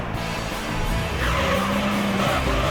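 A race car in Gran Turismo Concept on the Tahiti Maze track spins out under a loud engine drone, with a sustained tire squeal and skid that swells in the second half.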